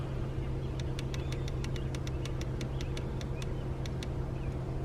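A Nissan 240SX engine hums low and steady at light throttle, with a faint run of quick ticking clicks over it and no talk.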